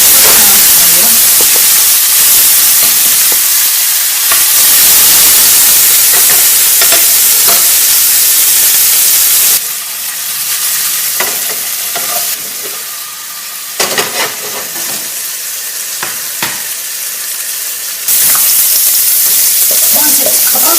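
Chicken souvlaki pieces with garlic sizzling loudly in a hot pan, a constant close frying hiss broken by bursts of stirring and turning.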